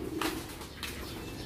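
A homing pigeon coos close by, with two soft, throaty coo phrases over a constant background hiss.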